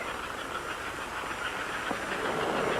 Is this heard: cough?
no